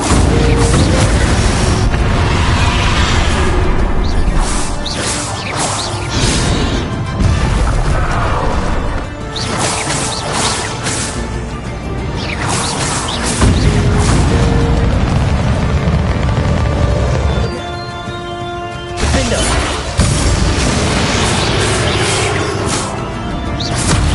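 Bombarda spell explosions in the video game Hogwarts Legacy: repeated loud crashing booms and blasts over a long stretch of dense, roaring battle noise.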